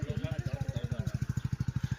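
A motorcycle engine runs with a fast, even chugging pulse, loud and close throughout, as if the bike is moving along nearby.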